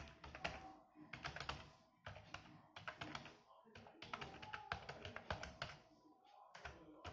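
Rapid typing on a computer keyboard, loud and close, keys clattering in quick irregular bursts with brief pauses between runs.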